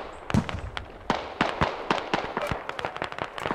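Sharp bangs from a video game firefight crack out one after another, several loud close pops and thuds in uneven rhythm with no speech over them.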